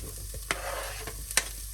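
Celery and garlic sauté in a pan for a Moroccan harira soup, giving a steady sizzle with a few sharp scrapes of stirring spaced through it, close and moderately loud, with no voices.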